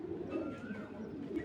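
A pigeon coos softly at a pigeon farm, a low rolling call heard up close over a faint background, with no speech.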